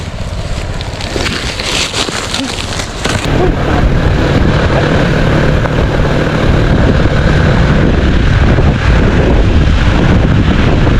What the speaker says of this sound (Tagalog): Lamig ng ihip ng hangin.